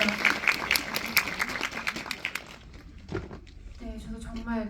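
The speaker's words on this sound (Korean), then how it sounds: "여러분들 박수 부탁드립니다." A cinema audience at a film Q&A screening claps enthusiastically for a few seconds, the applause fading out as a voice begins speaking.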